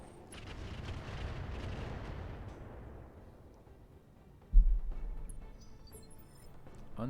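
A mech explodes in the video game Battletech with the Roguetech mod: a sudden deep boom lands after a long fading rumble, then decays into a low rolling tail, loud and alone without talk.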